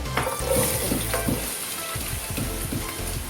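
Chopped onion frying in a few spoons of hot oil while chicken is cooked, a steady close sizzle with stirring scrapes and a faint watery splash, no talk.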